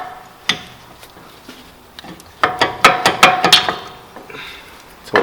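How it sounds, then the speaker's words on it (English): Metal clicks and scraping as a flathead screwdriver pries the front brake caliper off a 2018 Volkswagen Atlas, a single sharp knock followed by a cluster of rapid clattering taps, close and fairly loud. "I'm going to use my flathead to pry up on it"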